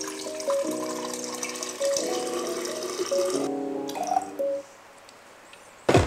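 Cold water poured from a container onto 100 grams of medium-roast Creamy Blend coffee grounds for cold brew, a gurgling, splashing pour with shifting pitch in several bursts, then a short quiet pause before a final clatter.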